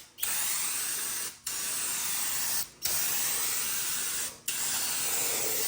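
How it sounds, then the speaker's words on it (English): Four long bursts of spray-on window tint from an aerosol can, each a steady broadband hiss lasting over a second, separated by short pauses, close and loud. "let's start with this spray-on tint"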